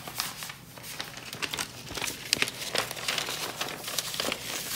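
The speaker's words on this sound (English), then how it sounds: "let me fight with the paper" A thin sheet of craft paper rustles, crinkles and crackles as it is handled and crumpled in an uneven, continuous run, close up and fairly quiet with no voices.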